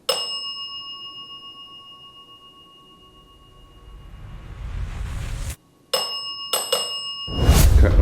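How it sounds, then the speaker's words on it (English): A bell in a supposedly haunted old jail rings in sharp bursts, a clear ding with a long ringing tone, then a rising rumble, several quick clangs and a loud final clatter, with no voices. "could you set off that bell twice, fast, 2 times?"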